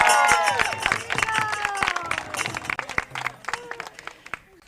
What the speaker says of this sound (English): Can we have a big round of applause for the winner here?